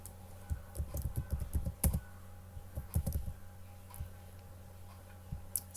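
A computer keyboard is typed on in quick, close clicking bursts with short pauses between runs of keystrokes, quiet and with no voices.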